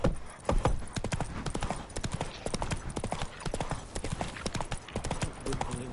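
Roach, a horse in The Witcher 3, gallops with steady, loud clip-clop hoofbeats that run through the whole stretch, with a brief voice near the start.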